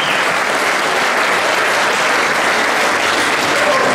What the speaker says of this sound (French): On peut aussi applaudir